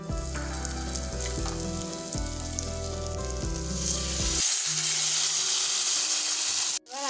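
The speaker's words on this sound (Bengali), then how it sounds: "আমরা কষিয়ে নিচ্ছি" Spice paste of cumin, garlic, chili and onion fries with eggplant in a pan for a fish jhal curry, a steady loud sizzle that rises after background music drops away, ending with a sharp clatter.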